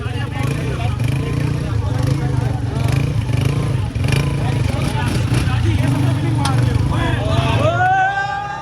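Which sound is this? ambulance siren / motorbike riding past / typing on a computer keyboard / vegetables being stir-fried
motorbike riding past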